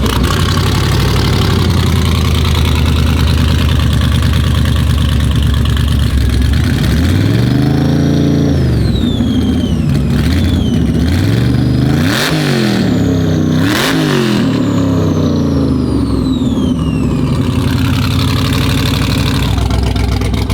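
A car engine fitted with ram air fires up and settles into a heavy, rumbling idle, then is revved hard several times in sharp, swelling bursts, loud and close, with no talking.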